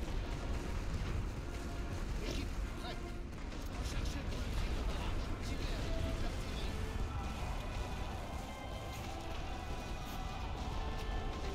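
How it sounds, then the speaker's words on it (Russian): Dense, continuous rumble of distant gunfire and booming artillery in the video game The Great War: Western Front, a steady wash of battle noise with scattered sharper cracks throughout. "Здесь стрельба идет."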